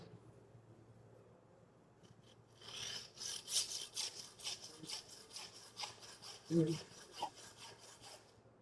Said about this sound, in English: I want to make sure that I'm cutting through meat and only sawing through bone